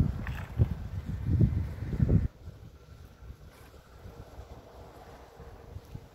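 Gusty wind buffets the microphone outdoors while someone flies a spinning kite, loud and rumbling for about two seconds before dropping to a soft, steady breeze.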